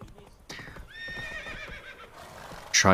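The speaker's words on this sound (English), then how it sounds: "from the Hanged Man's Tree I have to just regularly travel by horse" Horse ridden across open country in the video game The Witcher 3: Wild Hunt, with steady clip-clop hoofbeats throughout and a loud, close whinny bursting out at the end.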